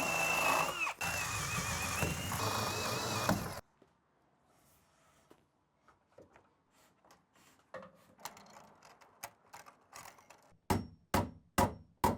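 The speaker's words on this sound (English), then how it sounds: "I'm going to drill through the middle of these joists" A power drill bores through wooden ceiling joists during a bedroom remodel, whining loudly for a few seconds before stopping, followed by scattered knocks and a run of sharp clunks and taps near the end.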